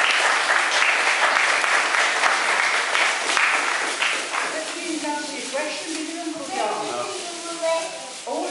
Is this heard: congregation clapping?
yes